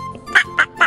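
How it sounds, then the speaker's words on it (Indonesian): A duck quacks three times in quick succession, each call short, nasal and loud, heard close up with a brief tone before the first quack. "Hewan yang berawalan huruf B adalah bebek."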